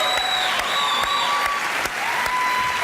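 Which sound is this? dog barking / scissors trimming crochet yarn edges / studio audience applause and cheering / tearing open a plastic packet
studio audience applause and cheering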